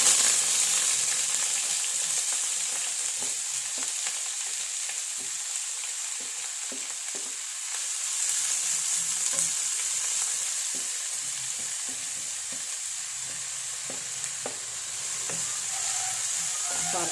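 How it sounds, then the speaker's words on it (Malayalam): Mustard seeds crackle and pop in hot oil, a dense, continuous close sizzle with many small sharp pops spread throughout, no talking. "കടുക് പൊട്ടിക്കൊണ്ടിരിക്കുന്നു"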